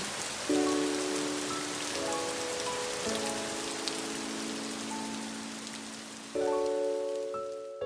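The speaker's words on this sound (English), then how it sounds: "it's raining! And it's raining so hard!" A dense, steady hiss of heavy rain pouring down, with sustained tonal hums layered underneath throughout.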